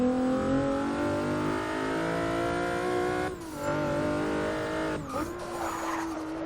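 A turbocharged race car on a track roars close by, its engine holding a steady high drone before dipping and rising again through shifts, with a brief tyre squeal near the end.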